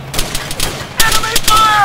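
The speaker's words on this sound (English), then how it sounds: "Enemy fire!" Video game gunfire rattles in a tactical shooter, with sharp repeated shots and bursts at mid distance mixed with faint chirps and electronic tones, under a busy battle soundscape.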